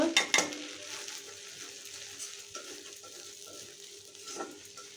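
Chilli and coriander powder frying in a pan for a potato and snakehead fish curry, opening with a few sharp clinks of utensil on metal, then a soft steady sizzle with occasional stirring, close by.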